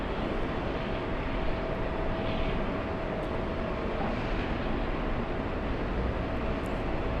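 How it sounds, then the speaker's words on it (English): An American Airlines Boeing 777 lining up on the runway at LA gives off a steady, dense jet roar that stays at an even level throughout, with no voices over it. "We have a big American Airlines 777 lining up."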